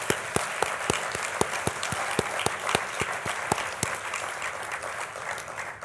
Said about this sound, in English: I think we owe them an applause for all their work.